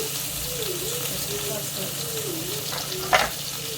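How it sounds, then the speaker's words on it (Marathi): Ridge gourd coated in black masala frying in oil, a continuous close sizzle with a brief scraping clatter near the end and a low hum underneath. "त्यानंतर मी थोडी अगोदर चांगल्या तेलामध्ये परतून देणार आहे"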